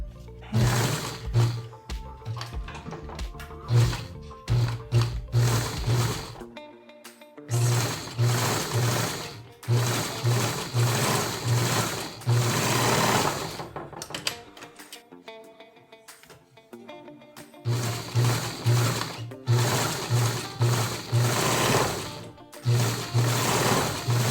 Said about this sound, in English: serge it like I've done here because I have a really nice serger, or you can narrow hem it.